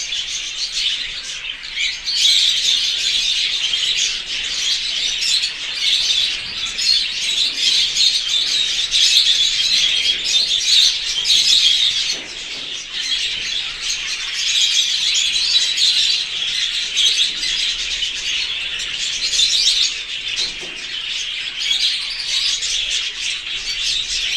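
Dense, continuous chirping and tweeting from a group of small pet birds, close and lively, with steady overlapping calls throughout.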